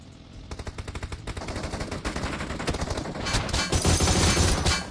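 Rapid gunfire from a battle royale video game: bursts of automatic shots that build into a dense, loud continuous barrage, with overlapping weapons crowding the end.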